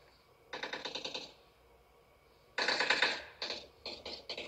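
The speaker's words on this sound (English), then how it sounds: "Who was shooting at me, bro?" Rapid automatic gunfire in the PUBG video game comes in several quick bursts, a longer run and then shorter volleys, played through a phone speaker and sounding thin and close, with no talk over it.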